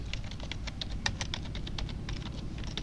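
Rapid typing on a computer keyboard, entering a search query, a close, steady patter of key clicks with no one speaking.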